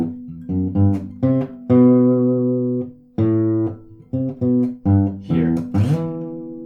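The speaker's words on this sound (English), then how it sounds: "on the 2nd time they add in this really cool slide" Guitar slide riff, played as clean picked notes in a short rhythmic phrase with sliding pitches near the end, close and clear with no talking.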